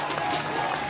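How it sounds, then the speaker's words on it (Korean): Dense, steady applause from an audience fills an esports StarCraft league award ceremony, continuous and loud throughout the short moment. "뜨거운 박수로 모시겠습니다."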